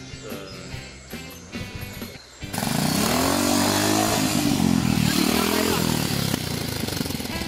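A trials motorcycle engine revving up hard close by, a loud rising and falling roar that swells abruptly after a quieter idling stretch with faint voices.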